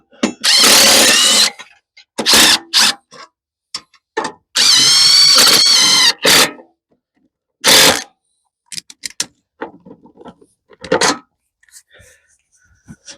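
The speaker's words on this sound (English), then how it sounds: "I'll run these down with the regular impact as much as I can" An impact driver with a deep socket runs stainless steel stop nuts down on a 1976 Vermeer LS200 log splitter. It comes in several loud, close bursts of rattling hammering, the longest about one and a half seconds, separated by quiet gaps.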